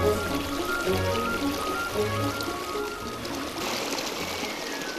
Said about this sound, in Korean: 이 정겹게 들리는 이 맑은 물소리